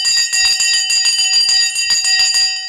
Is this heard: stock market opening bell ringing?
yes